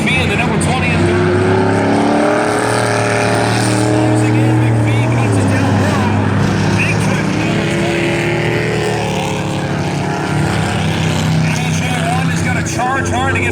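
Race trucks in the Truck Class feature at Valley Raceway roar continuously with loud, sustained engine drone that rises and falls as they pursue one another, while a commentator talks over the action throughout.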